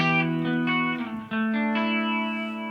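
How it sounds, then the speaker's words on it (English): Sustained guitar chords ring out through a heavy effect, giving a smeared, shimmering tone that shifts pitch partway through, with no voices. "this will take a lot of the hiss out and just leave the crackle effect"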